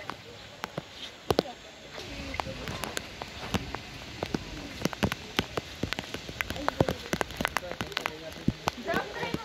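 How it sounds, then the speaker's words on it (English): Rain falls steadily outdoors near a clubhouse, a soft continuous patter with scattered sharper drops hitting a surface close by, fairly faint overall. "I think it's raining"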